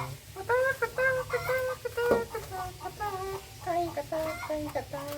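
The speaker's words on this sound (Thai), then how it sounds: "มันไข่เลยไข่กระตาก" A hen cackles after laying an egg, in a rapid series of loud, repeated clucks and squawks, coming in bursts with short pauses between them.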